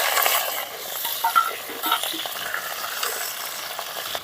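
Chopped country chicken for pepper rasam sizzles in a hot pan while being stirred, a close, steady frying hiss with light scraping and clinking from the spoon and no talk.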